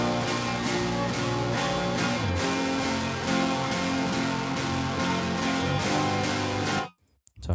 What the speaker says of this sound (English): So all together, all the guitars sound like this.